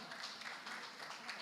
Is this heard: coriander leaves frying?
no